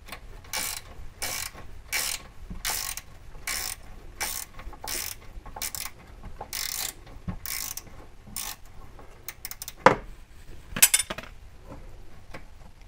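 A ratchet wrench clicks in steady, evenly spaced strokes while loosening a brake line fitting on a C3 Corvette, close and crisp, followed by a couple of sharper metallic clanks from the bracket near the end.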